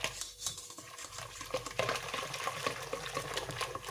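Croissant dough mixture, a yeast starter that has just activated, stirred in a bowl: wet, squelching strokes and light sloshing close up, repeating steadily with no talk.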